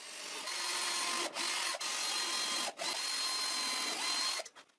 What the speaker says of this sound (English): I drill some guide holes.